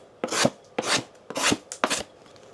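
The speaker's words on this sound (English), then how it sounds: "Now let's try and cut some cardboard on this book." Knife blade slicing through cardboard in four quick, close rasping strokes, each a short scratchy cut with brief pauses between.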